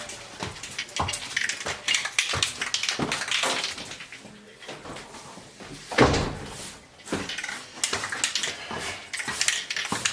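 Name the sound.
door closing upstairs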